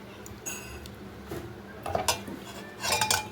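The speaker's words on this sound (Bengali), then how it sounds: "যেহেতু একটু গরম তো তাই একটু চামচ দিয়ে মাখিয়ে নিচ্ছি" A spoon scrapes and clinks against a pot while mixing hot beef biryani with ghee, irregular close metallic taps and scrapes that grow busier toward the end.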